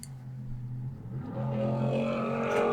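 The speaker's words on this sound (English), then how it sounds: "After that loud ass motorcycle." A loud motorcycle engine passes close by during a Cult of the Lamb gaming session, its steady droning note rising and swelling louder toward the end, heard alone without talk.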